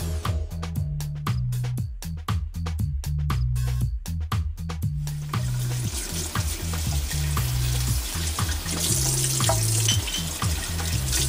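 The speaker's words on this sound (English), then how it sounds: "My sauce has been simmering for about 20 minutes." Tomato sauce simmers in a pot with a steady bubbling sizzle, and a low, stepped tonal backdrop like music runs beneath it throughout.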